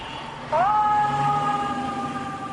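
A fire engine from Engine 23 in Manhattan pulls out on an alarm call, its siren sweeping up loud and close and then holding a steady wail over a rumbling engine.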